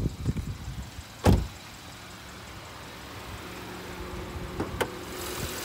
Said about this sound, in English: Open the hood like that.